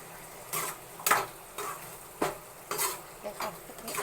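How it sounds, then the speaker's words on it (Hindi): Vegetables and masala frying in an Indian home kitchen pan, a soft sizzle broken by several stirring scrapes and spatula clinks at irregular intervals, close and moderately quiet with no talk. "देखो कितनी अच्छी तरीके से भुन रही है ना।"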